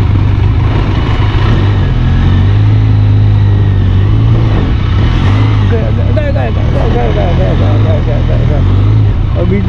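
A fairly heavy vehicle drives along a potholed desert road near the Munabao Indo-Pak border in Barmer. Its engine rumbles loudly and continuously with a low drone, and people talk over the noise.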